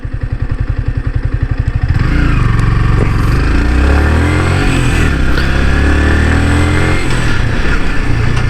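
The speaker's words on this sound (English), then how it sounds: "I'm stopping the bike, putting it in first." A Yamaha R15 v3 150 cc motorcycle idles with a steady pulsing beat, then revs and pulls away in first gear, its engine note rising and staying loud and close.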